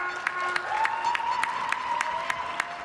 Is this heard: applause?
yes